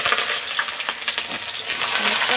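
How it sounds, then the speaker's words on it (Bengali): Fried pieces drop one by one into hot oil seasoned with nigella seeds at a shop kitchen, producing loud close sizzling with quick clattering clicks as each piece lands. "তেলের মধ্যে কালো জিরা দিয়ে দিয়েছি ভাজাটা এখন বসিয়ে দেবো তো ভাজাগুলো এক এক করে দিয়ে দিই"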